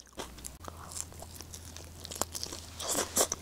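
Close, loud crunching bites into crispy, spicy seasoned takeout fried chicken eaten in Jeju, with repeated crackly chews that grow denser toward the end and no talking.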